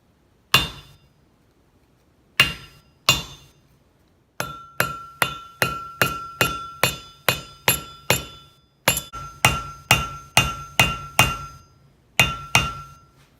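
A hammer taps a metal rivet while a lifting belt is repaired. The strikes are sharp and ringing, first a few single blows, then quick steady runs of light hits, all close and clear with no talk.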